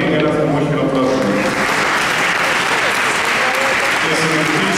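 Audience in a church hall applauding, a dense continuous clapping that stays loud throughout, with a voice briefly audible at the start.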